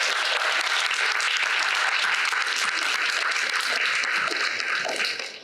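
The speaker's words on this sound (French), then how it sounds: "Donc maintenant, on peut applaudir s'il n'y a plus de questions." An audience at a women-and-tech panel talk claps loudly and continuously, a dense, full roomful of hands that holds steady and then tails off at the very end.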